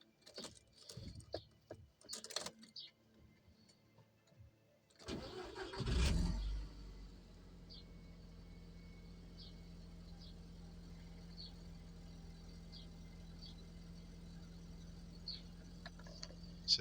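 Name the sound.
Audi TT MK1 225 Quattro engine starting and idling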